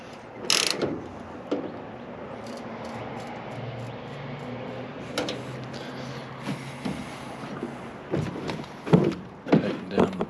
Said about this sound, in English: So I'm gonna tighten this now that I have it lined up,